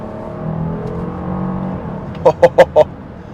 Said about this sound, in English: holding second. Let's see how we come out of this corner. And on the gas.